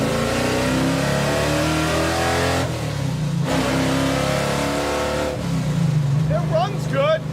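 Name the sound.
car engine running and revving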